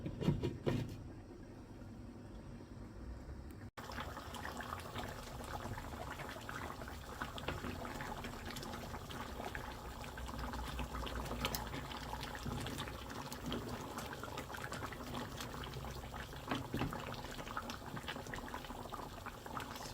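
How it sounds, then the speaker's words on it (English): A covered pot of beetroot dumplings simmers on the stove, a steady bubbling boil with constant wet burbling and small pops, moderately loud and unbroken throughout. "I'm going to cover it up and continue to simmer"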